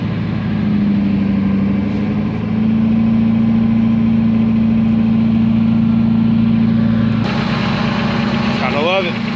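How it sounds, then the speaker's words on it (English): A Ford engine idles after a cold start with an exhaust leak, a loud, close, steady drone with a raised idle that drops partway through; a voice speaks near the end. "Exhaust leak."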